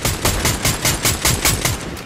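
Automatic gunfire in a shooter video game, loud and close, with regular pulsing bursts of roughly four per second running continuously over a dense rattle of shots.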